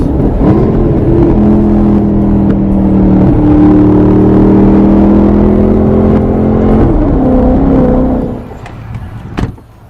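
A 2009 Maserati GranTurismo with stock exhaust idles with a low, steady burbling rumble and a few rising tones, then cuts off near the end, followed by a brief click.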